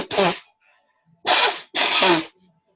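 Three loud sneezes close to the microphone during an online call, the first alone and the last two in quick succession, with near silence between them.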